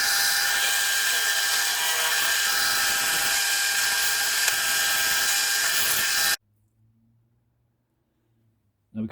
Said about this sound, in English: so that I can drill straight through without having to worry about the drill press itself getting drilled